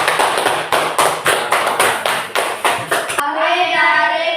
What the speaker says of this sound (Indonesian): Beri tepuk tangan untuk kelompok Rok.